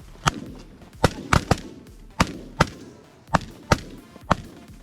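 Shotguns fire at Canada geese during a Missouri hunt, about a dozen sharp, loud reports in quick pairs and singles, with a little echo after each blast.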